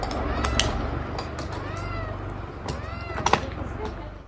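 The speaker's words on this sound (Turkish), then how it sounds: "Elektrik direğinin tepesinde kedi sesi duyan köy sakinlerinden Cemal Örnek, kedinin aşağıya inemediğini ve" A kitten stuck atop an electric pole meows in thin, rising cries, several calls coming faintly from above amid steady background noise and a few brief knocks.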